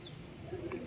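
A racing pigeon at a pigeon sale in Vellore gives a soft, low coo that swells briefly near the end, faint against a quiet background.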